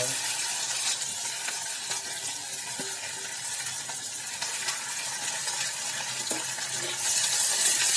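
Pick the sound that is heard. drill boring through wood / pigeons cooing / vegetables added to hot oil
vegetables added to hot oil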